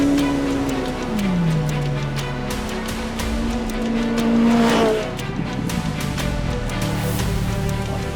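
A race car drives hard. The engine is loud and close, its pitch sliding down through gear changes and then climbing again under a continuous roar.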